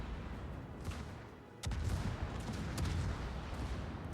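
Gunfire in a competitive video game match, a dense rumbling barrage with sharp cracks that jumps louder partway through and continues steadily, somewhat muffled and distant.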